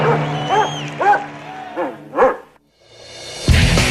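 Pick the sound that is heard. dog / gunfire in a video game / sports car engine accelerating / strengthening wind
dog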